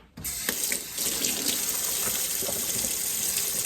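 Eggs being washed under a running kitchen tap, a steady close gush of water splashing over them after a brief quiet start, with light knocks and shifts of handling, no talk.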